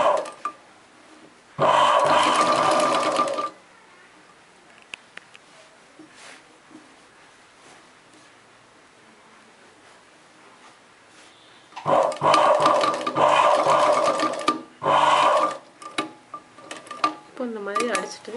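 A sewing machine stitching a chudidar top runs in two loud bursts, one early and one longer run near the end, separated by quiet handling of the fabric.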